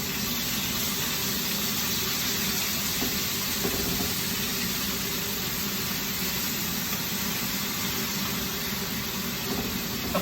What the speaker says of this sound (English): that searing noise